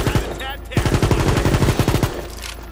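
Weapon fire from the video game World War 3: a rapid burst of about a dozen sharp gunshots in quick succession, loud and close, preceded by a couple of single shots.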